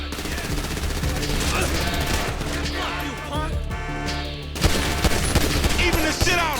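Heavy automatic gunfire from GTA V, dense overlapping bursts from several weapons with crashing impacts, loud and continuous, followed by a sharper burst of shots near the end.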